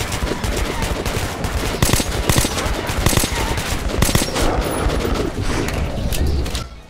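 Rapid automatic gunfire from a weapon in the video game Metro 2033 Redux, dense and loud bursts running almost continuously for several seconds with sharp individual shots standing out, no talking over it.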